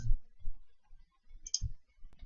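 A computer mouse is clicked a few times, soft close clicks separated by short quiet gaps in an otherwise still room.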